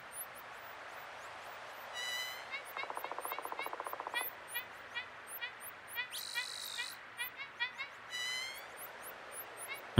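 A synthesized owl call, part of a synth-built nature soundscape, sounds as a series of short rhythmic hoots amid chirping bird-like tones and a buzzing trill over a soft background hiss.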